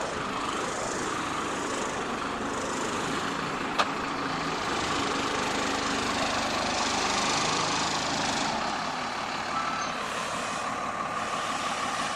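A motorized trimmer cuts tall cedar trees outdoors, giving a continuous droning motor at moderate distance that rises and falls slightly, with one sharp click partway through.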